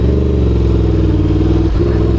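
A Yamaha R1 sportbike pulls away and accelerates, its engine note loud and close, a steady buzzing drone that climbs in pitch with a brief dip as it shifts gear.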